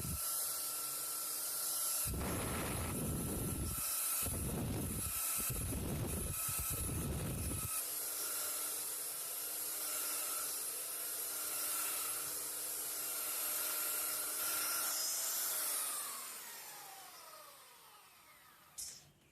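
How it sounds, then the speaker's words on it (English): A belt sander runs continuously on a wood panel for a loudspeaker cabinet, a loud steady whine with rhythmic rasping bursts early on as it is pushed across the surface, then spins down near the end. "I'm going to use a belt sander."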